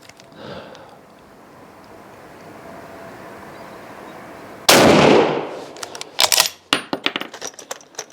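A 7.62mm Lee-Enfield No.4 rifle, an L8 Sterling conversion, fires a single sharp, loud shot close by after a quiet stretch, followed by metallic clicks and clacks of the bolt working.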